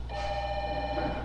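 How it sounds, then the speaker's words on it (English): A telephone bell rings on a theatre stage during a play, one bright sustained electronic trill heard clearly, with no voices over it. "That's the phone, Ken."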